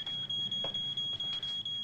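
A high-pitched electronic alarm goes off indoors, rapid rhythmic beeping continuing without pause, with a few thuds and rustling movement beneath it.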